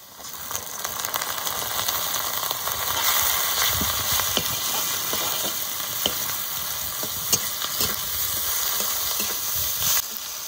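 Chopped onion sizzles steadily in fish oil over a village cooking fire, a dense continuous frying hiss with occasional stirring scrapes, close and fairly loud throughout.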